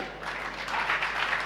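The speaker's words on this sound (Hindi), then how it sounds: "ये ताली किस लिए बजा रहे हो?" An audience at a religious discourse applauds, a dense, steady wash of clapping that swells slightly over a brief moment.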